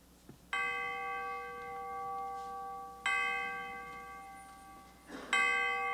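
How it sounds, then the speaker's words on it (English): A neighboring church bell chimes the hour in three separate ringing strikes a few seconds apart, each ringing tone with a long decaying hum that carries into the next strike. "the chimes of a neighboring church were chiming the hour"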